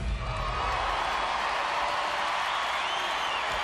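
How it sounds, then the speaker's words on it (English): An arena crowd cheers and applauds at the NCAA gymnastics championships, a sustained broad wash of clapping and voices at steady volume, heard from a distance with no single voice standing out. "The crowd enjoyed it"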